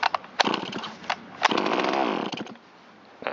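A Shindaiwa 360 chainsaw, long left sitting and now being repaired, sputters through a few brief bursts and then catches into a short, rough run close by before cutting out.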